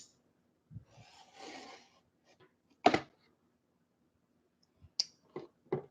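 Kershaw knife cutting open paper-wrapped rolls of half dollar coins; a brief rasping slice, a sharp click and a few short scraping clicks separated by quiet gaps.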